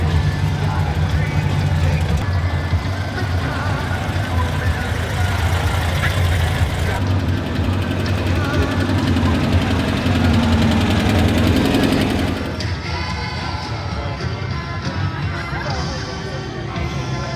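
An 84 Ford Mustang GT with a swapped 5.0 Coyote V8 idles at a classic car show, a loud, steady, throbbing low rumble that shifts and drops in level near the end, with voices talking over it.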